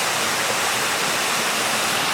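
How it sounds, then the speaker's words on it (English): A waterfall in woodland at night, heard as a constant close hiss of falling water filling the whole clip, even and unbroken, with no talking. "there is the waterfall"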